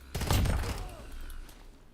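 A close burst of rapid gunfire in an Xbox Cloud shooter video game, loud for about half a second and then fading into a quieter tail with scattered faint echoes.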